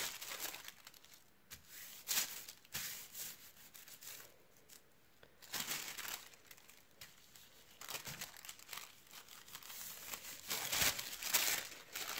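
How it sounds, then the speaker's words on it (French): Tissue paper rubbed and wiped across a stencil during gel press printing of Christmas decorations, giving repeated soft crinkling and rubbing bursts in an irregular rhythm, close and fairly quiet, with no talking. "à l'aide de mon papier de soie, je vais retirer ce qu'il peut y avoir dans les interstices de mon pochoir"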